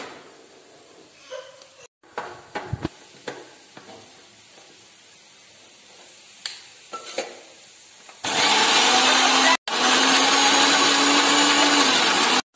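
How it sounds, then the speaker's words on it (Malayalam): Scattered clinks and handling noises, then a mixer grinder roars loudly grinding cardamom, cuts out for a moment and whirs on again steadily. "അപ്പൊ ഞാൻ മിക്സിയിൽ ഇത് അടിച്ചു വെച്ചിട്ടുണ്ട്."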